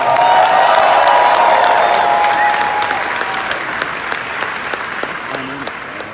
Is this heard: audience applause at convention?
yes